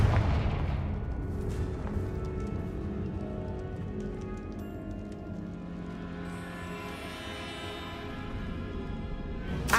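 Confringo fire spells cast in a bone-lined tomb in Hogwarts Legacy, with a heavy booming blast at the start and then rumbling, crackling echoes and game ambience rolling on underneath.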